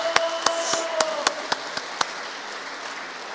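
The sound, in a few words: audience applause in church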